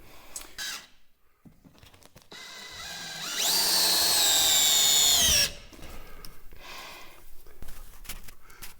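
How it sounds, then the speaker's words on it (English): A power drill drives screws into timber floor joists for a mountain cabin loft, pulling the wood tight against tongue-and-groove wallboard. One sustained whine of about two seconds sits amid quieter handling noise. "Where these screws are sucking this timber right up against the tongue and groove wallboard, giving it a nice clean finished look."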